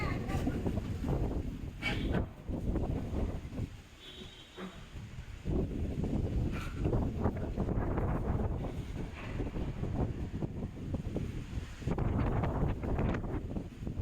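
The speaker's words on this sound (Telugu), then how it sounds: "సడన్ గా ఏంటో గాలి బీభత్సంగా వచ్చేస్తుంది." Strong wind gusts roar and buffet the microphone in loud, surging waves that barely let up.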